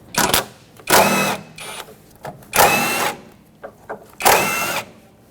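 A power tool zips off three 14mm strut mounting nuts under the hood of a 2006-2010 Hyundai Sonata, three loud, close bursts of whirring rattle, each about a second long, separated by quieter clicks and handling sounds.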